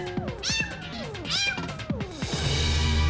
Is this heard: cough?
no